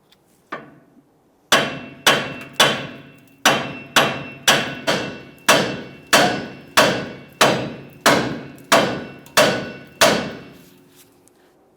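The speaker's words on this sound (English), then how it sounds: "I'm going to start tapping up along where the upper ball joint makes its way through the knuckle here." About fifteen sharp, ringing hammer blows land at a steady rhythm, each decaying quickly, as a hammer taps a steering knuckle to free the upper ball joint on a 1999–2006 Chevrolet Silverado 1500. The blows are close and loud.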